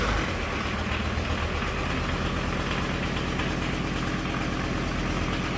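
A VW T4 van's turbo engine idling, a steady close rumbling drone with an even low throb and a faint higher whine, unbroken and alone.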